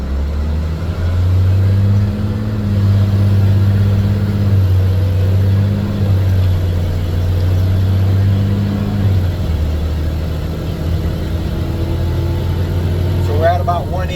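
An LMTV military truck engine labors as the truck climbs a hill, a steady loud diesel drone with shifts in pitch as it pulls, running continuously close by with voices heard over it.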